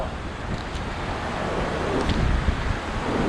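Strong wind gusting under a bridge, a steady roaring rush buffeting the microphone with low rumbling, loud and unbroken, with no talk.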